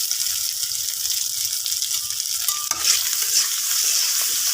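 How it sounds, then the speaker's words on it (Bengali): Potato pieces coated with turmeric and salt fry in a pan with a loud, continuous sizzle. A sharp clatter from stirring cuts in midway. "এখন আলু ভাজলাম আলুগুলো ভেজে নেব"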